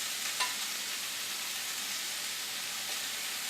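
Ground turkey frying with onions in a hot pan makes a loud, steady sizzle and hiss close up. A couple of soft clicks cut through it briefly, and no one speaks.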